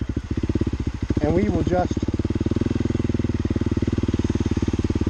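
A 2023 Honda CRF300L Rally motorcycle crawls at low speed, its single-cylinder engine thumping in a steady, even pulse, close and loud throughout, with someone speaking briefly over it.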